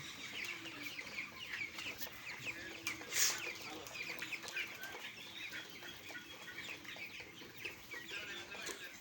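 Broiler chickens on a poultry farm cluck in a busy, overlapping chorus at moderate distance, with one brief burst of wing flapping, and a quiet voice faintly underneath.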